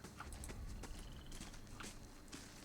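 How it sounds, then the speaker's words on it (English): Horse hooves clip-clopping at a walking pace in Pillars of Eternity, a steady uneven patter of soft hoof knocks against a constant ambient game background, with no voices. "Horses."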